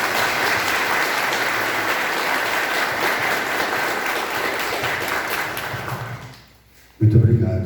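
A church congregation claps in warm, sustained applause to welcome the archbishop on a pastoral visit. The clapping is dense and steady, then dies away, and a voice starts speaking near the end.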